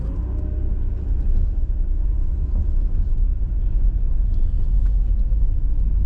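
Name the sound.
car passing by on a street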